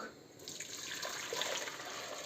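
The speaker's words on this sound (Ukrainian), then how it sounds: "наливаємо кип'ячу воду," Boiled water pours steadily into a pot, a close, continuous splashing stream with a brightening trickle as it fills.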